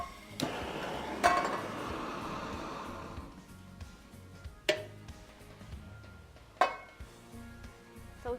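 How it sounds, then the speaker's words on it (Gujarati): A metal pan is set down on a gas stove to heat in a kitchen, giving a few soft, scattered clinks and clatters over a quiet background. "સૌથી પહેલા આપણે પેનને ગરમ કરવા મૂક્યું છે."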